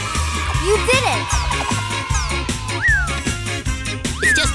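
A cat meows several times in rising, drawn-out calls over a bouncy cartoon-style music bed with a steady beat, the meows loud and close.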